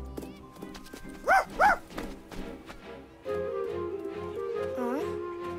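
A cartoon police dog gives two loud, cartoonish barks in quick succession, followed by a sustained, wavering musical tone with rhythmic clopping underneath.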